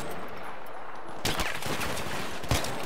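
Battlefield 3 combat gunfire erupts in loud, dense bursts of rapid shots after a quieter stretch, with sharp cracks standing out.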